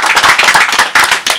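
An audience at an auto-cross event claps for the sponsors, producing a loud, close burst of rapid hand claps with a short dip partway through.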